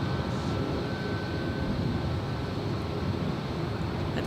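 Boeing 787-9 Dreamliner jet at Los Angeles airport, heard as a steady, moderate engine roar with a faint high whine, continuous and fairly distant, no talk over it.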